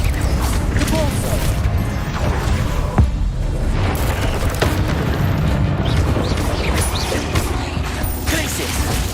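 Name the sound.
Repulso spell blast in Hogwarts Legacy video game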